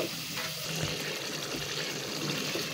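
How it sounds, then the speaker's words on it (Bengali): Water pours into a pan of fried onions, a steady hissing gush with sizzling, quiet and continuous, with no talk. "এখন আমি অল্প পরিমাণে একটু পানি দিয়ে দিব"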